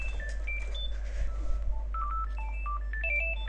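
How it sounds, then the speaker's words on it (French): A telephone sounds during an online Go game, giving a run of bright electronic beeping tones that step up and down like a ringtone melody over a strong low hum. "Ah, téléphone."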